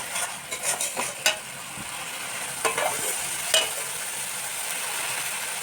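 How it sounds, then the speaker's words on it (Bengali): Onion paste with ginger-garlic paste frying in a pan, a constant close sizzle broken by a few sharp scrapes and clinks of a spoon as it is stirred. "পেঁয়াজ বাটাটা হালকা ভেজে নিয়েছি তো এর মধ্যে 1 চামচ আদা রসুন বাটা দিয়ে দেবো"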